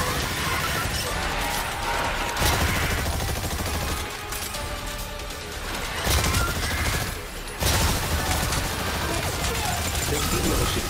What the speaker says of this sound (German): Er greift mit Kanonenfeuer und Granaten an.